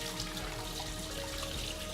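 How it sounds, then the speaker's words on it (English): Water used to rinse sushi rice pours from a pot into a kitchen sink, a steady, soft, continuous splashing flow. "Now I'm going to drain the water into the sink."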